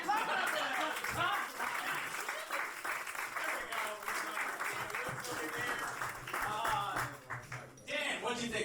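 Crowd at a New York roast battle comedy show claps in uneven bursts, with voices talking and some chuckling over the clapping from the room.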